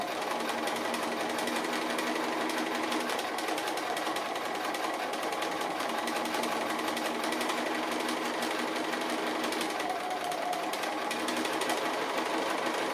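A sewing machine runs continuously and evenly at steady speed, stitching around the edges of fused applique fabric pieces, close up with no pauses and no talking.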